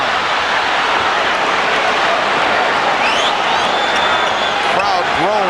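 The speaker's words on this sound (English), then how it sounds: "Crowd groans every time they see Marley has an open 3-point shot" A basketball arena crowd at the 1993 NBA Finals, Phoenix against Chicago, a loud continuous roar and groan filling the hall, with sneaker squeaks and a ball bounce near the end.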